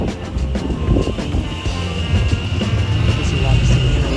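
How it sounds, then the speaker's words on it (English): A train passes a street crossing in an Iowa town, a steady loud rumble with faint clatter heard close by from the roadside while people walk nearby. "There's a train."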